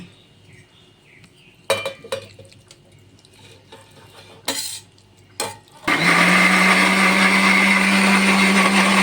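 A few clatters and knocks of a jar being set up, then a loud electric mixer whirs steadily, grinding sautéed ingredients into paste continuously until the end.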